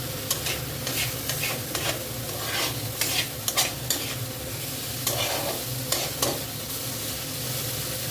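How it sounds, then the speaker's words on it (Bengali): Spice paste sautés in oil in a pan, a constant close sizzle broken by repeated scraping strokes of a spoon stirring the masala at an irregular pace. "মশলাটা আমার কষানো প্রায় হয়ে এসছে, আর একটু কষালেই কষানোটা কমপ্লিট হয়ে যাবে"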